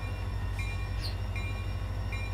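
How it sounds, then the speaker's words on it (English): A train departing in the RO-Scale railway game rumbles low and steady, with a few brief high squeals or whistle-like tones cutting in over the constant rolling noise. "So the train departed safely"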